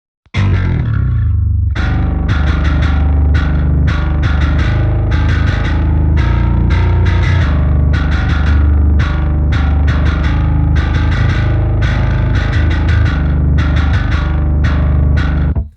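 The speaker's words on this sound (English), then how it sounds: "So this is Submission Audio Gin Bass." Bass guitar played through the Submission Audio Gin Bass VST plugin with near-default settings, a loud distorted riff of repeated picked notes in a steady driving rhythm, heard alone without talk.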